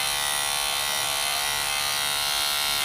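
Electric clippers shave an old dog's fur during grooming, a steady loud close-up buzzing hum that runs unbroken throughout.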